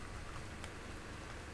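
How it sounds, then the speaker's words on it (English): Rain in the ARK: Survival Evolved video game, a faint steady patter of raindrops on a surface with no voices. "And it's raining in my house again."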